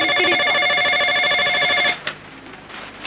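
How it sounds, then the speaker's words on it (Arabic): Telephone ringing loudly and continuously in an indoor room for about two seconds, then stopping abruptly, followed by faint shuffling sounds. "التليفون بو التليفون."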